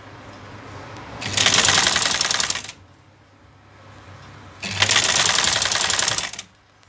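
A black sewing machine stitches fabric in two sustained, loud bursts of rapid needle clatter, each lasting over a second, with a quiet low motor hum in the pauses between runs.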